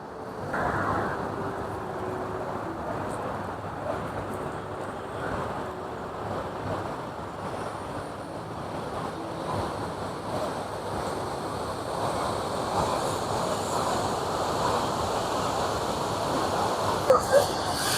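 Jung Waterfall and its river rush in a continuous, even roar of broadband water noise, steady and fairly close, with some wind buffeting the microphone and no clear voices.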